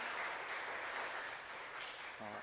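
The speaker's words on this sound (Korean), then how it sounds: "우리 다시 한번 감사의 박수 한번 하겠습니다" A church congregation applauds in thanks during a Sunday worship service, steady dense clapping sustained throughout at moderate distance with a brief voice near the end.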